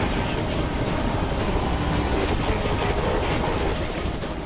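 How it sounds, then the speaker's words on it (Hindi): Indian Air Force military helicopters give a steady, loud roar of rotors and turbine with a dense, rushing wash throughout and no voices. "यह है भारतीय वायुसेना के हेलीकॉप्टर्स, जिनका कोई जोड़ नहीं, कोई तोड़ नहीं।"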